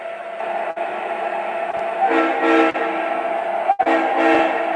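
An MTH model train horn sounds loud and sustained, a rich multi-tone blast held for several seconds with brief breaks and swells between toots, close up, with no speech.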